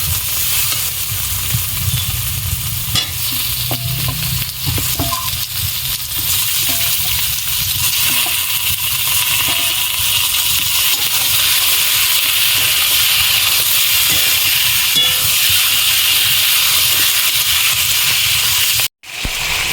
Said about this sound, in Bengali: এখন আমি মাংসটা দিয়ে দেবো।